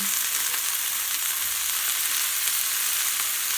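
Mushrooms sizzle in a wide pan, a steady, dense frying hiss that stays even and close throughout with no talking.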